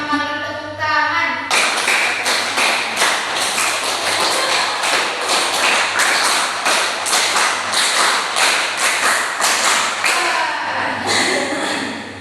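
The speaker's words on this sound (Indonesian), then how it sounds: "5 kali tepuk tangan." A group of students claps in unison in a classroom, a steady run of sharp, loud hand claps that lasts several seconds after a teacher's voice.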